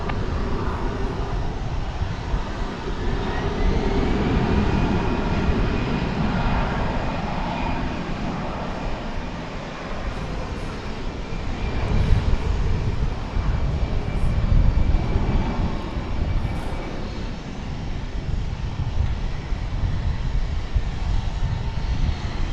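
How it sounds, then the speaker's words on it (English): An American Airlines jet takes off from runway 18 left at Dallas/Fort Worth airport, a steady, loud engine rumble with a thin whine that holds and surges mid-roll, heard from outside the airfield. "clear for takeoff 18 left, American 1232"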